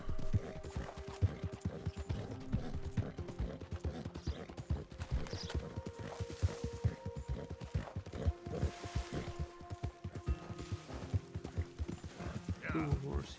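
Horse hooves clip-clop in a quick, continuous patter, with a whinny rising near the end, while voices are faintly present in the background.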